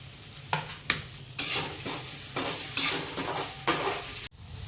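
Potatoes for poha sizzle in a pan while a spoon stirs them in about six brisk, scraping strokes, each a bright burst over the steady frying hiss, ending in a sudden cut.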